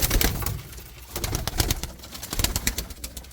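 Tumbler pigeons cooing close by, a male and a younger female, with repeated throaty coos and soft rustling in short bursts, no talking.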